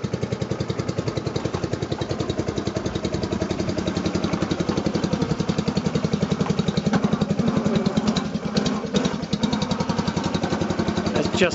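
A Planet 2 petrol hydraulic two-wheel tractor engine idles on tick over, a steady, close, mid-pitched putter with an even rapid firing rhythm throughout, no talk over it.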